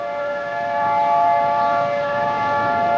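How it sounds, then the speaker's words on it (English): A tornado warning siren wails continuously in a steady, sustained tone, loud and unbroken for the whole stretch. "Hear the sirens going off?"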